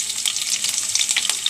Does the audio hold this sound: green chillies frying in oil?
yes